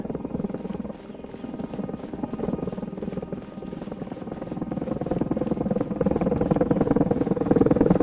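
A helicopter in a video game drones with a steady rotor buzz and rapid blade chop, growing gradually louder and closer over the stretch, without speech.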